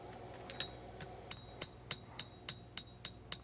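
A hammer strikes steel on an anvil while a knife blade is hand forged, giving a steady series of bright, ringing metallic blows at about three per second, moderately loud against a quiet background.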